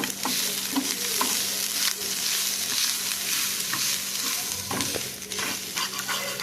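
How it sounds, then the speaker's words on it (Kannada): Onions frying with turmeric in a pan for chicken sukka give a steady, loud sizzle with occasional stirring scrapes and clicks throughout, no voices. "ಹಲ್ದಿ ಹಾಕಿ ಫ್ರೈ ಮಾಡಬೇಕು ಈರುಳ್ಳಿ ಒಟ್ಟಿಗೆ ಎಲ್ಲ ಫ್ರೈ ಮಾಡ್ತೀನಿ"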